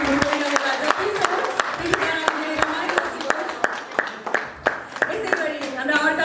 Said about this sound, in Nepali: यस्तो प्रोग्राममा आउँदाखेरि चाहिँ त्यो हात बजाएर ताली भयो भने